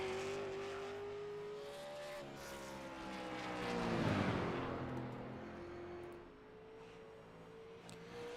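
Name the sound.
race car engine in the video game iRacing, Five Flags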